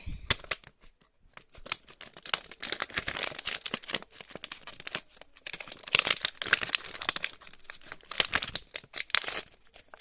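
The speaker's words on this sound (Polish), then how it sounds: "Nożyczkami utnę." Scissors cutting through a foil card sachet, close-up snipping mixed with crinkling and rustling of the packet, fairly quiet and irregular throughout.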